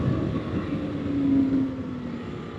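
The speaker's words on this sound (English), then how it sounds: "Let this traffic roll through." A vehicle rumbles past nearby on a road, its low engine drone swelling and fading as it goes by, with steady traffic noise around it.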